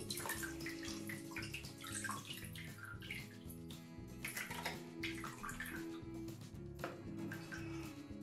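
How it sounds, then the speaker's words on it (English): Water sloshes and splashes continuously with wet squelching and dripping as water is sponged out of homemade paper pulp in a tub. "sponge the water out, maybe?"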